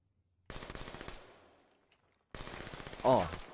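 Video game gunfire aimed at a dead body: a rapid automatic burst rattles for under a second, fades, then a second burst follows after a short pause, close and crisp.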